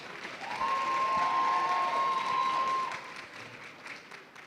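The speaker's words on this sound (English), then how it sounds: "Can we give a round of applause?" An audience applauds Sis Clementine at a women's discussion evening, a sustained round of clapping that swells and then fades, with a faint whooping cheer or whistle over it near the start.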